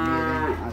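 A Sarda calf or cow gives one loud, close, sustained moo that drops slightly in pitch at the end.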